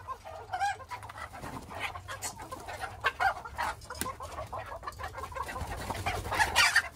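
Chickens clucking as a flock is let out of the coop after a holiday absence, busy overlapping clucks and calls, close and lively throughout, with a few sharper squawks toward the end.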